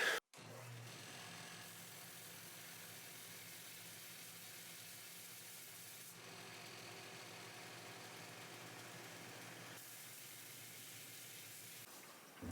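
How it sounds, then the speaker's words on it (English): A belt sander runs while shaping a bleached bone nut, a steady, faint whirring drone that holds almost unchanged from start to finish, with slight shifts in tone. "all I do is go over to the belt sander, as you just saw"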